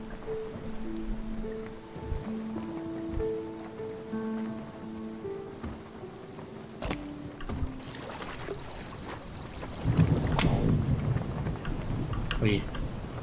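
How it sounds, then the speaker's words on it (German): Thunderstorm in the video game Spiritfarer: steady rain hiss under musical tones, with a sharp thunder crack near the middle and a louder rumbling roll later. "Das Gewitter hat mich gelenkt."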